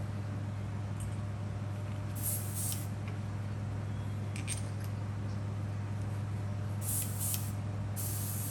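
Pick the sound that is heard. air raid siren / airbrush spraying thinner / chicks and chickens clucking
airbrush spraying thinner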